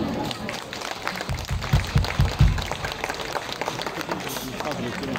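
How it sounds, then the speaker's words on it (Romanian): Audience applauding the concert group Peregrinii Cimișoarei, scattered clapping and crowd murmur with a few louder thumps mid-way, somewhat distant and indistinct. "Haideți să-i aplaudăm!"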